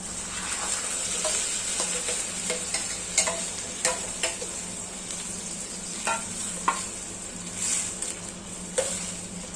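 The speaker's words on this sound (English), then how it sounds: "Let's add our green paste to the onion." Green paste frying with onion in a pan for a Goan clam curry, giving a steady close sizzle broken by scattered stirring clicks and scrapes, with no talking.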